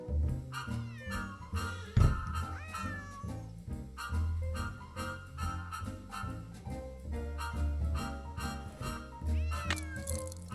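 A cat meows repeatedly inside the Nancy Drew video game, its cries rising and falling over a steady bed of background game music, loud and close with no talk.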